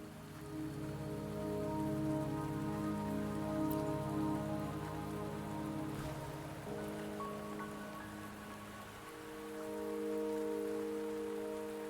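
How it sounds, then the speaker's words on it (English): Steady rain patters in the game Wuthering Waves, a continuous even wash beneath a soft sustained musical drone, with no voices. "Don't worry, the rain won't last much longer."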